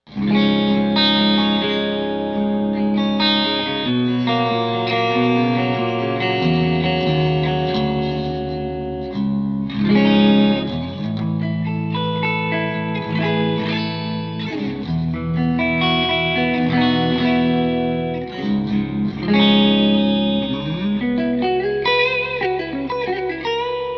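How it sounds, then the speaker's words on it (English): Electric guitar with both pickups together, played with a clean, full tone, strummed chords and picked notes ringing with a touch of reverb, steady and close, no voices. "here's that same clean sound with both pickups together"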